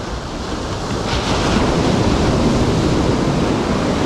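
Big waves break on a beach during beach fishing, a loud, continuous roar of surf that swells after the first second and stays dense and close, with wind buffeting the microphone.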